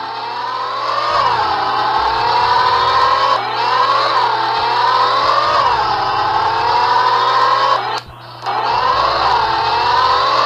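Car engine in a mobile racing game on a Redmi 14C phone, whining as it revs up through repeated gear shifts in rising and falling sweeps, steady and loud, with a brief dropout near the end.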